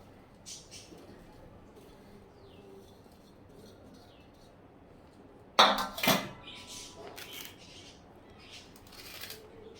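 Methi dink dry-fruit ladoo mixture is moved into a large metal plate, with quiet faint scraping first and then a sudden sharp metallic clatter and a few rattling knocks halfway through.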